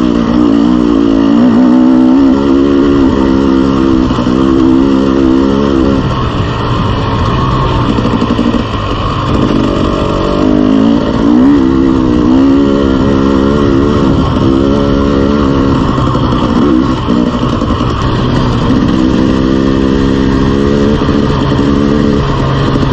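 A KTM 300 dirt bike engine runs loud and close while riding, a continuous buzzing two-stroke drone that rises and falls with throttle changes throughout.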